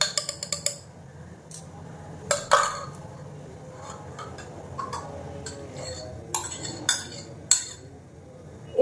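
Milk poured into tea in a kitchen pan brings a scatter of sharp metallic clinks and taps from the pan and utensils, several in quick clusters over a low steady background.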